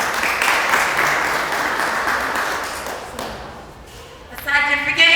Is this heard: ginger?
no